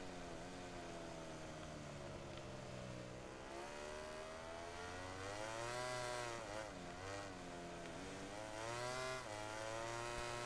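A Ducati racing motorcycle in MotoGP 17 screams steadily at high revs along a straight, its engine pitch swelling and dipping through gear changes, loud and continuous, with no voices over it.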